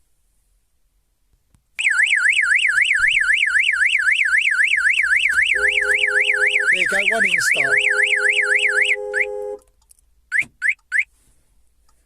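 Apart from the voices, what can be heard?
car alarm sounding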